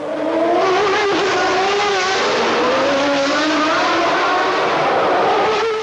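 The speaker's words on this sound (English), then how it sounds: "They're going to be hard on the brakes as they come down the hill, right down to first gear, and then left, and then right, and then accelerating hard" McLaren Formula One race cars accelerating hard out of a fast corner, engines screaming and rising in pitch through the gears, several cars overlapping in a loud, continuous roar.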